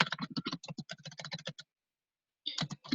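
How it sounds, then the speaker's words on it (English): Rapid typing on a computer keyboard, close and fairly quiet, a dense run of clicking keystrokes that pauses for almost a second before a short final burst. "apologies, my typing is horrendous today"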